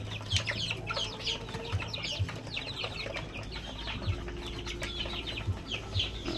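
Native chickens cluck in a farmyard kept with native turkeys and Rhode Island Reds, short repeated clucks and calls scattered over steady outdoor background noise, no talking.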